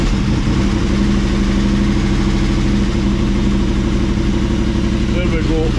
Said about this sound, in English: You'll hear it ticking till the oil gets through